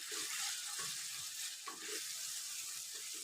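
Ginger paste sizzling in a pan with tomatoes and onions, a steady, close frying hiss throughout with faint stirring scrapes and no talk.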